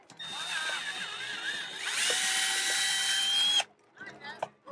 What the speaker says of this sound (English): you just drill it out, so you now have a nice clean hole.